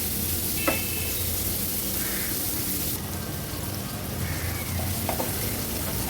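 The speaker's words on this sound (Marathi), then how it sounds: "हा कांदा आणि आलं लसूण क्रश आपल्याला शिजवून घ्यायचे" Onion and ginger-garlic paste frying in a pan over a low flame give a steady, even sizzle throughout, with a few light stirring clinks on top.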